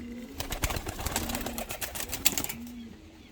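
Pigeons from Kayseri, including longface birds, coo in a series of low drawn-out calls with some wing flutters and rustling nearby.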